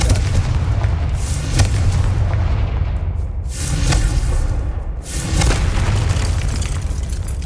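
A Confringo spell blast in the video game Hogwarts Legacy, heavy booming explosions with rumbling low end, a few large bursts close together, loud and dominant with no talk over them.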